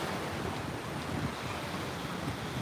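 Sea waves rolling onto the shore at The Hague, a steady broadband wash of surf mixed with wind rumble, continuous and fairly close, with no talking.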